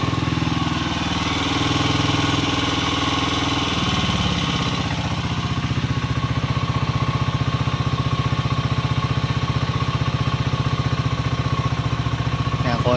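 A Skygo King 150cc motorcycle engine idling after carburetor idle-screw adjustment, a steady close putter that shifts partway through to a faster, even chug.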